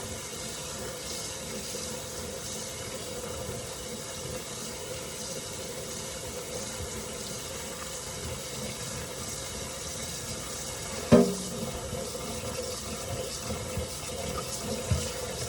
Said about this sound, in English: Into our sink. Again, give them a good rinse.